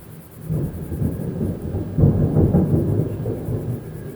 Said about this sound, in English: There's another thunder coming.